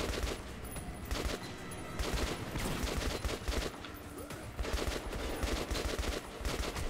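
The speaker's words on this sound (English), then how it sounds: "Why are they shooting at me?" Enemies firing at the player in Metro 2033: dense, rapid bursts of automatic gunfire and scattered single shots, loud and sustained for several seconds without speech.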